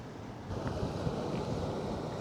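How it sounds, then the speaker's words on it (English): Boiling hot spring water bubbling up out of the ground at Yellowstone amid steam, a steady rushing churn heard close by with no talk. "There's a big bubbling flow of boiling hot water coming up out of the ground"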